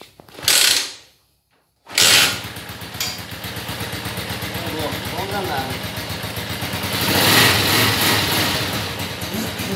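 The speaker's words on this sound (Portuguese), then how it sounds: "vou dar partida no motor para vocês verem como ela ficou." A homemade quad bike's small engine is started after a brief silence and settles into a loud, rapid, rattling run close by, with a voice speaking briefly at the start.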